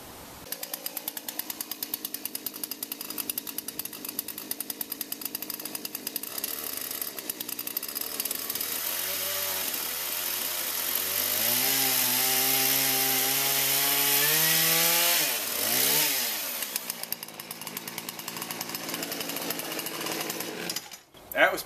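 Chainsaw cutting through lumber for a raised lettuce garden bed, a loud steady engine roar rising in pitch as the chain bites into the wood, then easing off near the end with a final knock.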